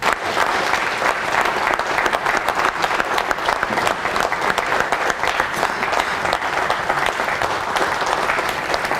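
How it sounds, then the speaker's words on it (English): Audience at a club's annual lecture in Nigeria giving a standing ovation, dense sustained clapping filling the hall for the full length, loud and continuous. "Could we all stand up and give our resource people a rousing applause?"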